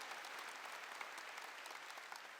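A church congregation clapping together during a service, a steady, even patter of many hands heard faintly and at a distance, with no talk over it.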